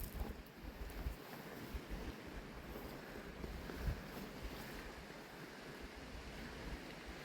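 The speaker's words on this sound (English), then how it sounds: "we're just walking in the beaches here" Surf washing onto a coal-strewn beach at Suquash, a steady broad rush of breaking waves that sounds near and continuous, with wind buffeting the microphone throughout and no talking.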